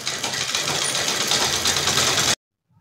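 Sewing machine stitching a yoga mat bag sewn from an old curtain, a steady close mechanical whirring buzz running continuously for over two seconds, then stopping abruptly into near silence.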